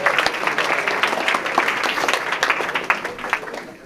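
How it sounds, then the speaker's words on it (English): Listeners at a class session give the departing speakers a round of applause, with close, full, continuous clapping and sharp individual claps throughout. "Let me just ask for another round of applause for our speakers before they go out the door."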